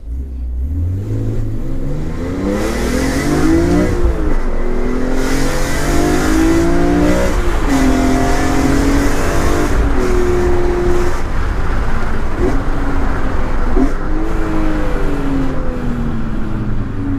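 A 2003 BMW E46 M3 CSL engine revs hard and continuously, pitch climbing and dropping through gear changes, loud and close with a rough, aggressive growl throughout.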